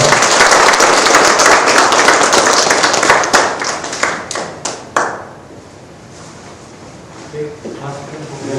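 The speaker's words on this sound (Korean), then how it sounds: "큰 박수 부탁드리겠습니다" An audience at a Korean lecture academy applauds to welcome a lecturer to the podium. Steady, loud clapping fills the first five seconds, breaks into a few scattered claps and dies out, and then quiet talking follows.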